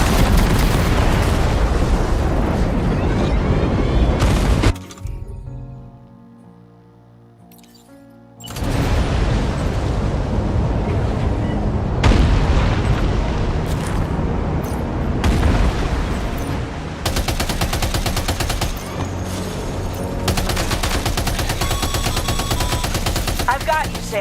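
Weapons firing in Death Stranding 2, loud sustained machine-gun bursts and booming explosions, broken by a short quieter lull before the barrage resumes and continues to the end; voices occasionally speak over the fire.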